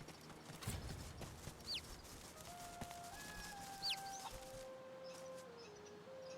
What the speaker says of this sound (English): Behold, it is I, the magic cockerel.